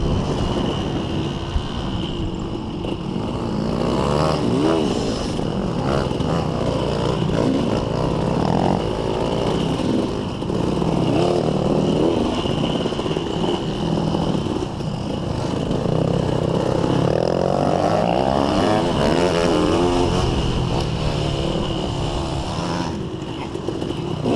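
A dirt bike races along a motocross track, its engine loud and continuous throughout with constant revving and gear changes, close up.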